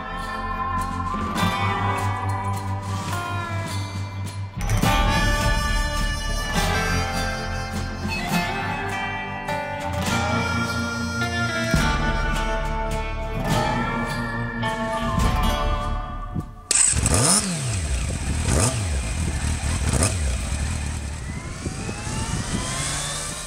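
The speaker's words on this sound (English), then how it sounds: "It's a 600cc, 4-cylinder, 95 brake horsepower, Yamaha" A Yamaha FZS600 Fazer 600cc four-cylinder motorcycle, 95 horsepower, revving loudly and repeatedly, engine pitch climbing and dropping in close sustained bursts, then a sharp change to a harsher high whine near the end, no talking.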